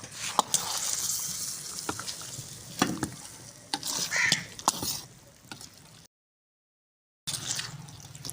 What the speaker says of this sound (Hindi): आलू को भून लेते हैं थोड़ा सा